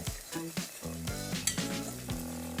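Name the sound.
flour blend and butter sizzling while whisked in pan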